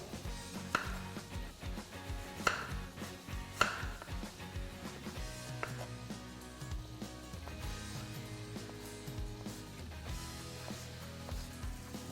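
Apples being cut into small sticks with a knife on a cutting board, a series of crisp, close chopping knocks at irregular intervals over soft background music.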